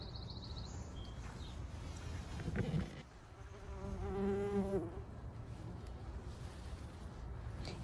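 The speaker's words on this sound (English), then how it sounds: "we can see the yellow-faced bumblebee spending long periods with their face up inside that flower" A yellow-faced bumblebee works a flower in a garden, its buzzing faint and intermittent, rising into a brief clearer tonal drone midway, with soft background noise outdoors.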